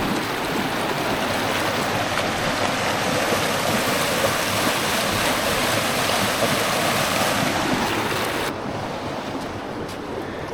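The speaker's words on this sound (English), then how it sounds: "It's really loud, but look at all that fresh water coming through there." Spring water pours loudly into Florida's Suwannee River, a steady, close rushing wash like a stream or small falls that fills the scene throughout, easing slightly near the end.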